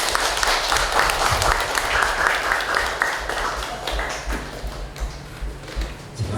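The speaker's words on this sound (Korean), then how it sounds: "큰 박수로 맞이해주시기 바랍니다" Dense, continuous audience applause fills a hall at a Confucian school event welcoming a traditional farmers' music performer, many hands clapping at once without a break.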